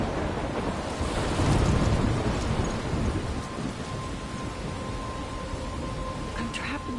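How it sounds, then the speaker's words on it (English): A thunderstorm in the video game Life is Strange: heavy, steady rain and wind hiss, with a deep rolling thunder rumble swelling early on and then fading back into the downpour. "I'm trapped in a storm?"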